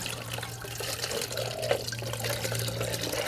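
Water runs steadily from a tap over lotus seeds set to soak, a continuous close wash of trickling liquid with a steady low hum beneath it and no talking.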